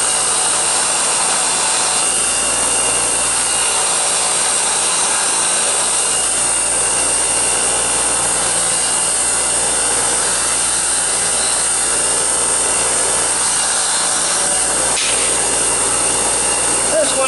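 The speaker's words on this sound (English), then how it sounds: "I don't have to do much grinding." A bench grinder shaves down a metal speedometer cable extension for a VW Beetle, producing a loud, steady, close-up high-pitched whine and hiss that runs throughout without a break.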